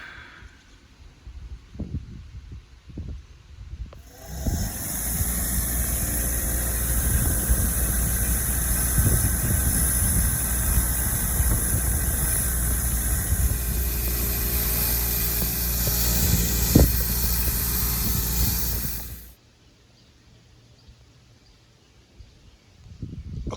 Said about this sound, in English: I might be able to clean that up with the wire wheel.